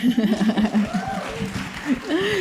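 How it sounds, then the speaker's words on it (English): An audience at a scholar night applauds and cheers with some chuckling, while a voice talks over the clapping near the start and it tapers off. "I love that you all have a cheering section for each of you here"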